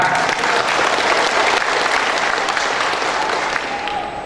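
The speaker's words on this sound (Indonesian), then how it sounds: "Tepuk tangan" A crowd at a political declaration rally in Dumai claps loudly and continuously, a thick, close wash of applause that eases a little near the end.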